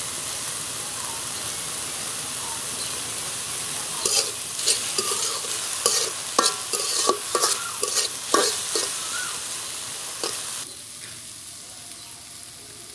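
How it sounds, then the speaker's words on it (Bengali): Potato pieces fry in a pan for Bengali dheki shak while a spoon stirs them, a steady sizzle with a run of scraping clicks in the middle before the stirring stops and the frying hisses on alone. "আগে আলুগুলো 2-4 মিনিট নাড়াচাড়া করে নিব"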